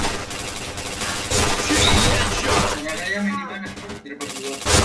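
Gunfire in the shooter game Point Blank, a steady stream of loud cracking shots and impacts blended with someone talking excitedly over the action.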